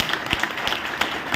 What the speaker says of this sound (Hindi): एक बार न्यूट्रीचार्ज के लिए जोरदार तालियां बजा दीजिए